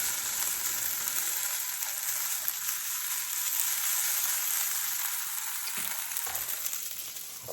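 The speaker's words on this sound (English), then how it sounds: "I'm trying to get the bacon before I burn it." Bacon frying in a pan, a steady close hiss and crackle of sizzling fat running continuously with no talking.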